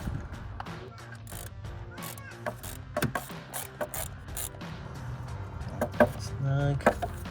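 Ratchet clicking as it snugs down an ignition coil bolt on a 2005-2008 Ford Mustang GT during a performance coil pack install, with short irregular bursts of close mechanical clicks and some low background noise.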